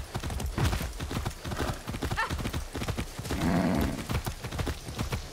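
Rapid hoofbeats of a galloping horse in the video game Far Cry 6 pound steadily throughout, close and loud, with a brief whinny partway and some background voices.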